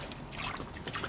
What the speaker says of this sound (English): I can wash my hand now.